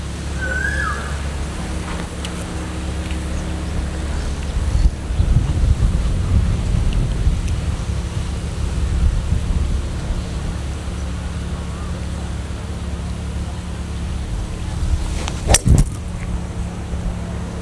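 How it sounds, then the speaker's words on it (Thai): Strong wind buffets the microphone on a golf course, a steady roaring rumble throughout with gusts swelling midway, a couple of sharp clicks near the end and faint speech. "ใช่ครับลมตรงนั้นถือว่าแรงมาก"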